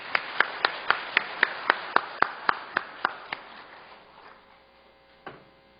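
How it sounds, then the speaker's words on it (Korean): Sharp, evenly spaced claps ring out in a church hall in thanks to the choir members, about a dozen crisp strokes in a steady rhythm that fade into room echo, followed by one last isolated clap. "우리 성가대 회원들에게 감사의 박수 한 번 더 하겠습니다"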